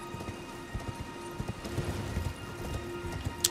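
Steady clip-clop of horse hooves at a walking pace in the video game Elden Ring, close and moderately loud, with a light pattering backdrop and no talking.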